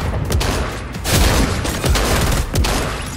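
Shotgun blasts in the Fortnite video game, several loud booming shots spaced about a second apart over dense, continuous gunfire and explosions.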